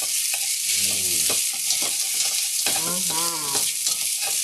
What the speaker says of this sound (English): here comes the rice, and that is a hot pot